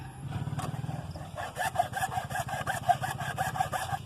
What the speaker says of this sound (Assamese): ইয়াত পিচ পিচ কৰি হেকচুৱেদি কাটি ফুটা উলিয়াম।